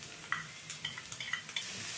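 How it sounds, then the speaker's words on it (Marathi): Chopped onions and green chilies sautéing in a pan over medium flame, a soft steady sizzle broken by a series of quick spatula scrapes and stirs, with no voices. "आपल्याला या कांद्याबरोबर म्हणजेच प्याजबरोबर 2 हिरव्या मिरच्या देखील परतून घ्यायच्या आहेत"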